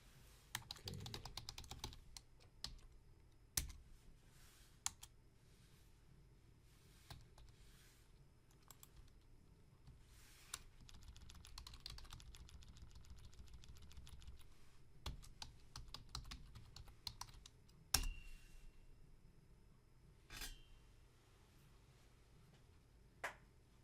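A password being typed on a computer keyboard during a SQL Server install on Ubuntu Linux: quiet, close key clicks in irregular bursts, with a few sharper taps standing out between pauses.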